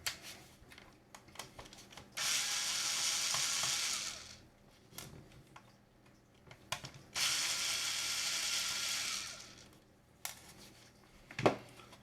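Screwdriver backing screws out of an HP 14 laptop drive, two spells of close, quiet grinding ratchet-like turning separated by small clicks and handling taps, ending with a sharp knock.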